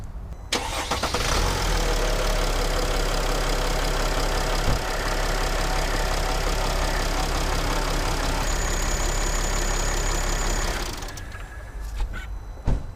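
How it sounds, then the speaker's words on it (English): A Mercedes Sprinter diesel van engine starts up and settles into a steady, rumbling idle for about ten seconds before cutting off, close by. "Now I'm going to turn the engine on to get the oil flowing through the filter."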